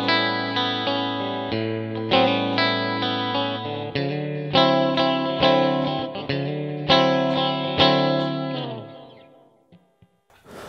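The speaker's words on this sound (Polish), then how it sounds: "warto też pokazać, jak jest rozłączony humbucker oraz przystawka środkowa" An Aria Pro II electric guitar plays with a split humbucker combined with the middle pickup, giving rhythmic strummed chords with a bright, slightly chorused tone. The chords ring loudly in repeated phrases, then fade out at the end.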